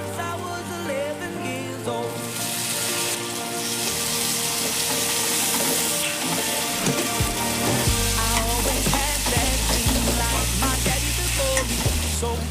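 Cluster bean bhaji stirred in a pan with turmeric, chili powder and garam masala, steady close sizzling with scraping and stirring clatter throughout, no talk.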